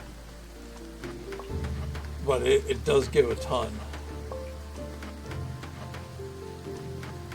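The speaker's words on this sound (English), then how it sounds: "I heard the rain" Steady rain patters in the Graveyard Keeper video game, a soft continuous hiss beneath someone talking over the gameplay.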